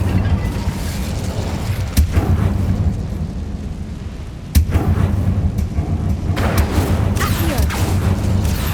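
Fire spell cast in the video game Hogwarts Legacy, heard as a dense, roaring magical blast with sharp booming bursts near the start and middle, sustained rumbling and crackle throughout at steady loudness.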